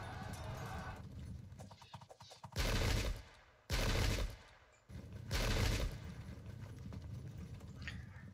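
Arquebus gunfire volleys in the Pike and Shot video game, three loud sustained bursts of massed shots a second or so apart, with quieter battle ambience between.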